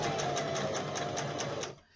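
Close and loud, a sewing machine stitches a fabric mask in a fast, even run of needle strokes for under two seconds, then stops abruptly.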